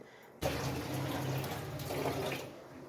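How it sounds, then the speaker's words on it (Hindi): Lemon juice squeezed into a chicken shami tikki mixture, heard as a steady, close, wet trickling and dripping of liquid that lasts from a quiet start to the end. "ये लेमन एक ले लिया मैंने ले लिया और इसमें ये निचोड़ देंगे इसका जूस निकाल देंगे"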